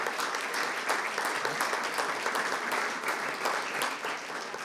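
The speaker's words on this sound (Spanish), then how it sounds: "Un aplauso para ellos." Steady audience applause at a book presentation at the Buenos Aires book fair, a continuous bed of many hands clapping with sharp individual claps standing out, no voices over it.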